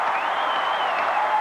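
A crowd at an indoor soccer playoff game sings a sustained farewell chant that fills the arena, steady and broad with a faint melodic line and no single voice standing out.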